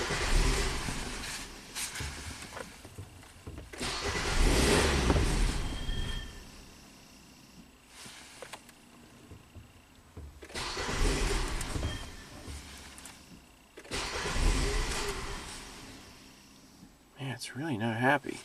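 A Nissan Sentra engine running rough and barely idling, surging in uneven bursts with quieter gaps between them, while someone talks over it.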